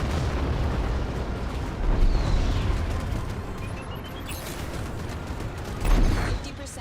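Missile explosions in a video game strike a target, heard as two heavy booming bursts over a continuous rumbling din, fairly loud and close.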